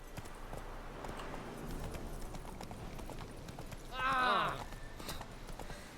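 Horse hooves clip-clop steadily while riding in The Witcher 3, with a short whinny midway through and a voice faintly present underneath.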